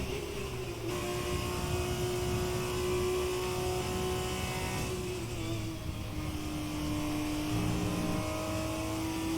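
An F2 race car engine in the video game F1 2020, driven in very wet weather at the Belgian Grand Prix, holding a loud continuous high-revving whine with slight pitch shifts as gears change, steady throughout with no talk.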